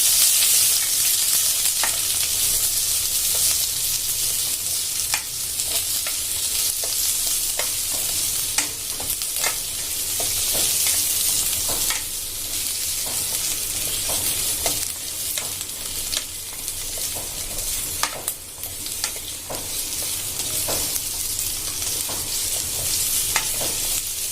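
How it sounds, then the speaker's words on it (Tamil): Chopped onions and four or five green chillies sauté in a pan for palak paneer, a loud, continuous sizzle broken by frequent scrapes of stirring and no talk. "வெங்காயம் போட்டுக்கிறேன். பச்சை மிளகாய் போட்டுக்கிறேன். ஒரு 4-5 பச்சை மிளகாய் சேர்த்துக்கிறேன். இதை நான் வதக்கிக்கிறேன்."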